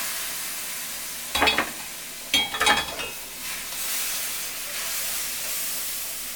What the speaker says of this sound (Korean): 처음에는 이렇게 비니까 육수를 이렇게 한 스푼 넣어주시고 볶아주세요.